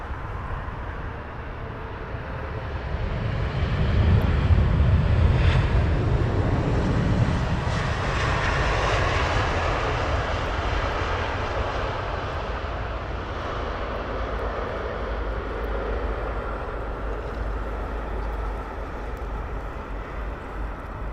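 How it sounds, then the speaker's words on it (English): British Airways Boeing 777 airliner at Heathrow Airport, a loud sustained jet engine roar that swells and then slowly fades as the aircraft passes, alone without talk. "Nice British Airways 777."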